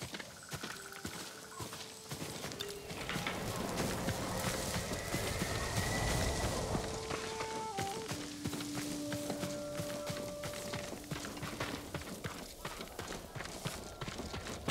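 Horse hooves clip-clopping in Ghost of Tsushima, steady walking rhythm near and moderately loud, with game ambience and occasional tones around it.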